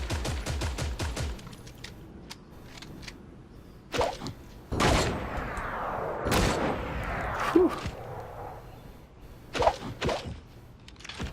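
Rapid bursts of video-game gunfire and heavy RPG blasts in a competitive shooter match, with a fast run of shots at the start, then loud, separate booms and cracks spread across the clip.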